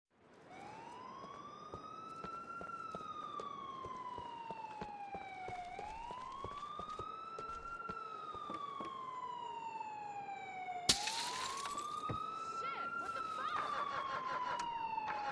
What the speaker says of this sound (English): I hear the police car.